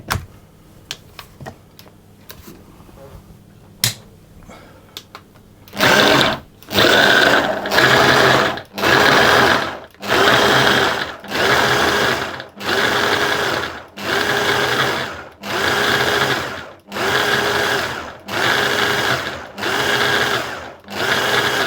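Food processor blitzing Bakewell tart pastry mix to fine breadcrumbs, a loud motor whirring in a regular series of short pulses about a second each, after a few quiet kitchen clicks at the start.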